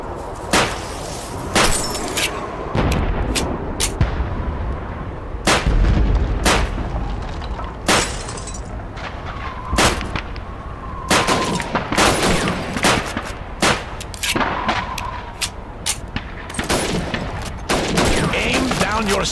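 Rifle and other gunfire in the World War II shooter Call of Duty 2, with loud, sharp shots cracking repeatedly through continuous battle noise and distant booms over nearly twenty seconds.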